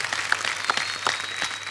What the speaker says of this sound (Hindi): इनके लिए एक बार ताली बजाइए